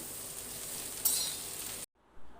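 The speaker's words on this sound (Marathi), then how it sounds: "भाजते वेळी ही अशी सुकीच भाजून घ्यायची" Okra dry-roasting in a pan with no oil, a steady soft sizzle and rustle that brightens briefly midway, then cuts off abruptly into near silence before a faint return.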